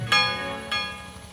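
Two clear metallic bell strikes ring out in a devotional story, each with a bright attack and a long shimmering decay, the second following about half a second after the first, with no speech.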